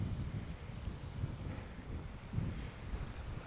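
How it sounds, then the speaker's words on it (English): Strong wind buffets a Scottish Cairngorms wild-camping spot, a steady low rumbling roar with gusts close to the microphone and no voices. "It's quite breezy."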